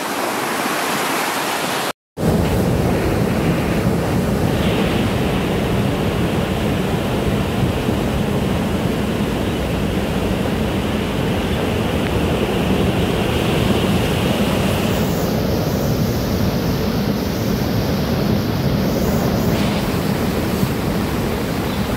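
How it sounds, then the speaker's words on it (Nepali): Monsoon flood water from overnight rain surging down a river near a bridge, a loud, continuous roaring rush close by that fills everything without letup, with a short cut near the start. "पहिरो साथसाथमै लिएर यहाँ चाहिँ बाढी उर्लिएर आइरहेको दृश्य तपाईँहरूलाई हामी प्रत्यक्ष रूपमा देखाइरहेछौँ"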